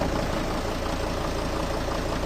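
A Mercedes Sprinter van engine idles with a worn dual-mass flywheel, giving a steady close diesel drone with a continuous rattling knock running under it.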